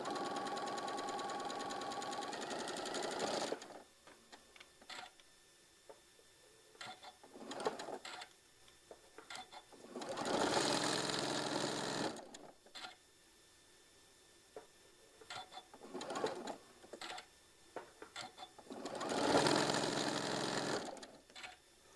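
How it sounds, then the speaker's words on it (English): A sewing machine stitching a maple leaf table runner along a marked line, running in several bursts of rapid mechanical whirring, separated by short pauses with faint clicks, close and clear. "We're going to sew right on that line and stitch all the way down."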